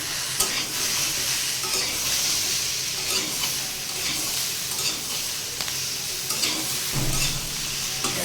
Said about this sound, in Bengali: হলুদটাকে একটু সবজির সাথে মিশিয়ে নেব।